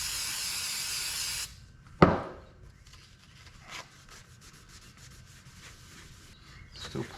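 A hiss of prep spray gives way to a sharp knock and then soft, uneven toothbrush scrubbing and rubbing noises on a 1965 Dodge Coronet 500 console, fairly close and moderately quiet.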